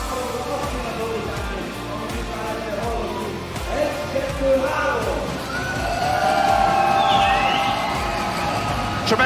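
A crowd at the Teqball World Series finals in Budapest cheers and roars steadily in a large live arena, a dense sustained wash of voices that swells toward the end, with an announcer talking over it.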